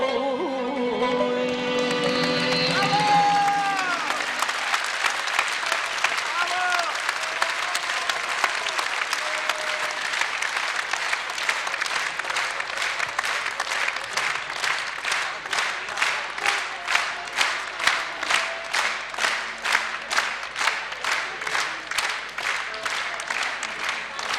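Theatre audience applauding ashugs at a 60th-birthday concert in Yerevan's Hakob Paronyan Theatre, broad clapping that settles into loud rhythmic unison claps, following a stretch of a voice over music at the start.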